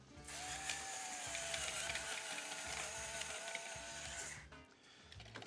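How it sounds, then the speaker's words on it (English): A pepper mill grinding black peppercorns, rapid ratcheting clicks with a gritty crunching whir for about four seconds, close and fairly quiet, then stopping. "a little bit of salt and a little bit of freshly ground black pepper"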